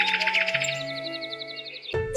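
A baby bird chirps in a deep green forest in an animated short, a quick run of high, bright tweets sliding over sustained soft music tones, ending in a sudden fuller musical swell.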